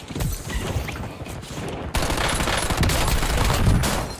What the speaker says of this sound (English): Enemy soldiers coming. Under fire!